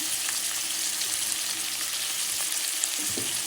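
Potato, onion, tomato and green chili frying together in a pan produce a steady, close sizzle with brief stirring scrapes near the end, no voices.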